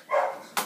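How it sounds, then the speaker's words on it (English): A single short dog bark, fairly close and moderately loud, followed by a brief sharp noise, with no talk over it. "I'm sorry for that barking."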